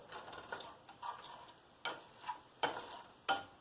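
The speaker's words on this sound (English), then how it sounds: "you got to make sure you keep stirring these things up because they're starting to stick a lot" A spatula stirs burger ingredients frying in a pan, with several soft scraping strokes at an irregular pace over a quiet, faint sizzle.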